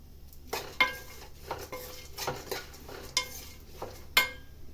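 Flattened rice and nuts being dry-roasted in a pan, with a utensil scraping and clinking against the metal in irregular strokes, fairly quiet and close, no voices.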